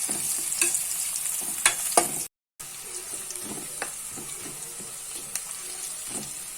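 Onions and red chillies fry in a pan while being stirred, giving soft sizzling with scraping strokes and occasional clinks close by. A brief silent gap falls midway, and no one speaks.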